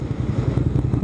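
A 650cc V-twin motorcycle engine idles with a steady, low, throbbing rumble that stays close and even for a short stretch, and no one talks.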